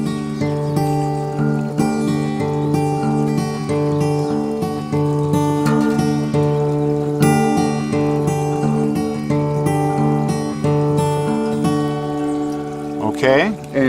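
Acoustic guitar fingerpicking a pattern, a steady stream of ringing plucked notes played close and clear without interruption.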